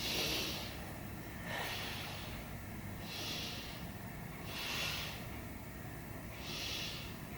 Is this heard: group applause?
no